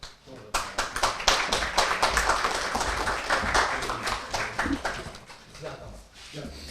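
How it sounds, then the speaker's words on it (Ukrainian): Audience applause for volunteers at an honouring ceremony in Ukraine, a dense burst of many hands clapping that swells and holds for several seconds, then thins out toward the end. "Ще раз оплески нашим волонтерам"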